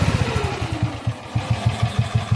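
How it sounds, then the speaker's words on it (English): A BSA B31 motorcycle engine ticks over at idle, a close, even, low thudding beat with slight unevenness in the rhythm and some mechanical clatter. "it ticks over fine, it idles perfect"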